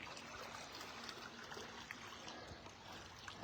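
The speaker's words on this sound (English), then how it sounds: "I wonder what's stirring up the water, because there's no boat out there" Gentle waves lap steadily against the shore in a deep valley in the Holy Land, a soft continuous wash of water with faint splashes, quiet and distant with no wind or boat nearby.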